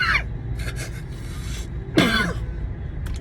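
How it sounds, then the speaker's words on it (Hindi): A single sharp cough rings out close by, followed by a rougher throat-clearing cough, over a low steady background hum. "खेद है, खांसी आ गई"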